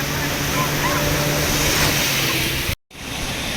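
Sea waves washing onto a beach in Goa make a steady, loud broadband roar that cuts out abruptly for a moment near the end, then resumes.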